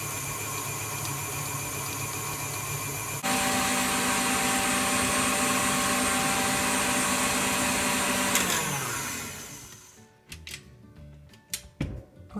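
An electric mixer whips mascarpone cream with a loud, steady motor whir that climbs in pitch as the speed is raised, then winds down and stops, leaving a few clanks against the bowl.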